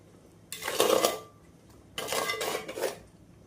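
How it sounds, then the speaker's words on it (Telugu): Mint-coriander paste being mixed into a pot of Karnataka-style donne biryani, with two bursts of scraping, clattering stirring sounds against the pot, close and moderately loud, separated by a quiet pause and no voices. "ఇప్పుడు పుదీనా కొత్తిమీర పేస్ట్ వేసాం కదా ఒకసారి బాగా కలుపుదాం"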